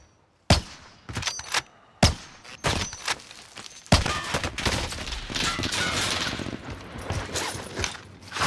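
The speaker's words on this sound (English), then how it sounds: "Gunfight's in here." Gunfire in a video game gunfight: sharp, loud shots come in irregular bursts at first, then swell into a sustained rattle of overlapping fire close by.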